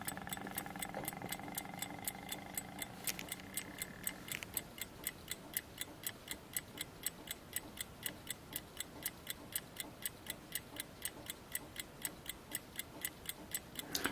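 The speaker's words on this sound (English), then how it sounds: "So that's it ticking." A 1962 Ingersoll Triumph pocket watch ticks through a cup used as an amplifier, giving a fast, even, close metallic tick over low hum, with a brief shuffling noise at the start.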